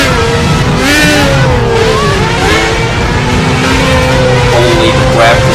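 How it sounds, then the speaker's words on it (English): A loud Formula 1 car engine in the racing game Project Cars whines and shifts pitch continuously, close and dominant throughout. "There's the sound of a Formula 1 going by."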